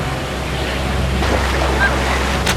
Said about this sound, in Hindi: पानी का बहाव इतना तेज क्यों है आखिर? ये एक बड़ा पानी का भंवर है।